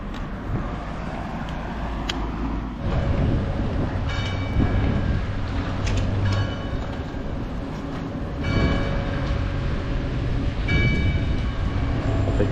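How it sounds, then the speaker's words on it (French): A tram rumbles at its terminus near the port in Nice, a loud low rolling drone with squeals and clanks as it moves, carrying on throughout. "En fait, là, c'est le terminus du tram"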